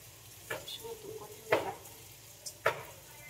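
Vegetable curry cooking in a pan gives off a faint low sizzle, broken by a few sharp stirring and scraping knocks against the metal in a quiet kitchen.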